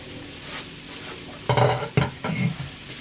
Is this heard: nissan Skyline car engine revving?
no